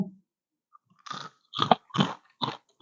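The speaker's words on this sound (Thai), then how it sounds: "แคบหมู แคบหมูจ้า อืมกรอบแคบหมูกรอบ" Crispy Thai pork rinds being bitten and chewed up close, a few sharp crunches in quick succession after a quiet start, dry and brittle, with no talking.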